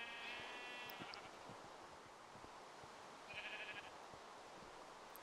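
Sheep on a Minecraft sheep farm give two short synthetic bleats, one early and one in the middle, over a steady hiss of game background noise.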